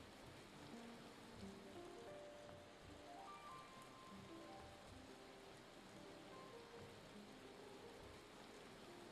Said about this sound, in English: Why must there be so much hail?